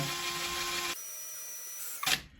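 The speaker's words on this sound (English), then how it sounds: "Yeah, it's drilling now." A power drill with a cobalt bit whines steadily into red-hot steel, then the motor pitch drops and continues grinding before a short sharp burst and fade; no talking.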